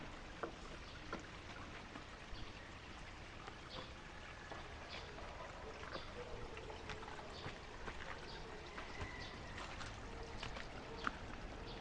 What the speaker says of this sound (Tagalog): Malakas pa yan ang agos ng tubig.